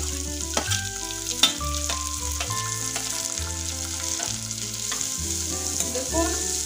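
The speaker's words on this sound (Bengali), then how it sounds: "এবার আমি কুচানো পেঁয়াজটা দিয়ে দিচ্ছি" Chopped onion frying in a pan of reddened spices for chicken chops, a constant hissing sizzle with occasional stir clicks, sitting under prominent background music and free of speech.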